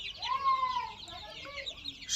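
Sonali chickens, young birds about sixteen days old, make a soft, drawn-out call followed by a few shorter clucks and chirps, close by, with no talking.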